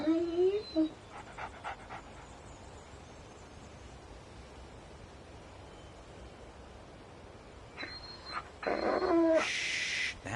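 A dog in Alan Wake Remastered pants and whimpers faintly in short high whines near the start and end, over steady low background hiss, with someone speaking softly.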